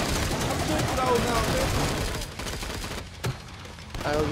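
Rapid gunfire in the video game Killing Floor 2, loud and continuous at first, then thinning to scattered shots, with someone talking over the shooting.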